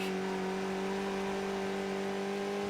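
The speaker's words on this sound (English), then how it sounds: "you can hear the engine just absolutely screaming as he keeps the throttle on" A race car engine in iRacing holds a steady, loud, high-pitched scream at full throttle through a lap at Silverstone, sounding continuous with almost no change in pitch.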